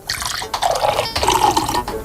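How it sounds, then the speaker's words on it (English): Water pours into a glass, a steady gurgling stream lasting about two seconds with a short break midway, close and fairly loud, with no talking. "I'm going to pour one after the other into a different glass"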